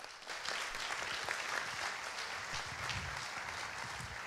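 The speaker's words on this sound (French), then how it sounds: "Je vous demande d'applaudir très chaleureusement Hervé Lorenzi" A large conference audience applauds a guest at an economic forum in Aix-en-Provence, with steady, dense clapping held at an even level for several seconds and no talk over it.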